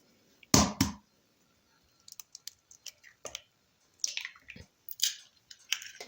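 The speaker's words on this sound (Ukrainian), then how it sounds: "Саме перше, що ми робимо, вбиваємо в нашу миску 3 яйця." Three eggs are cracked into a bowl, heard as sharp close taps and cracks followed by soft wet squelches and drips, in scattered bursts with quiet gaps between.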